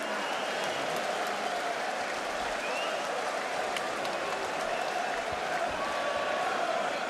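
A boxing arena crowd applauds Kostya Tszyu after his bout with Ricky Hatton, a dense, steady roar of clapping and cheering that fills the whole stretch, with a commentator's voice faintly over it.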